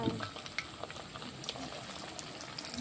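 Chicken pieces frying in boiling oil for a Sunday chicken rice, a steady, soft bubbling and crackle with scattered small pops, fairly quiet and continuous throughout.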